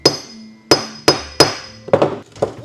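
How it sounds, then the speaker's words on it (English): A hammer strikes sharply several times at close range while knocking a cut piece loose, each blow a loud ringing metallic clink, with a quicker cluster of hits at the end. "Why don't I use my hammer to get it out?"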